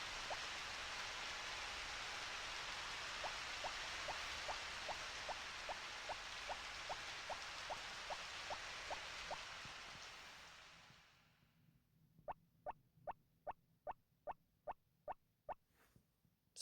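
Steady broadband rain hiss from a Harvest Moon farming game fills the first ten seconds with a faint repeating tick under it, then fades to quiet with a run of sharp evenly spaced clicks.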